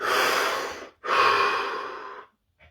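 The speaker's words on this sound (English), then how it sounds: "Take a deep breath." One deep breath during a guided pelvic relaxation exercise: a long, close, audible inhale, a short pause, then a longer airy exhale tapering off, with a faint soft sound at the end.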